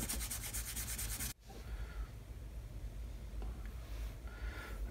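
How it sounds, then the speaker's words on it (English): Sandpaper held by hand rubs the tip of a small wooden yard for a model of HMS Victory, giving a quiet, close, steady scratchy rasp that briefly pauses and then resumes. "So I'm just gonna sand the tip with the left hand."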